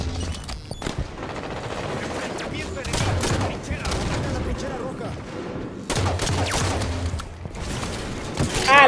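Rapid plasma launcher bursts and a grenade blast in a first-person shooter video game, dense layered weapon fire and booms filling the mix with short gaps, loud and continuous throughout.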